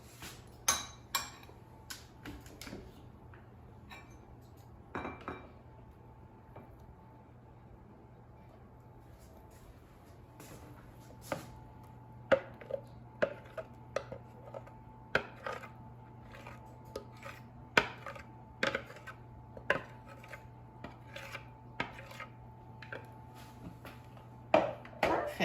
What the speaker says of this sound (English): Now let me just transfer it out of the food processor into a bowl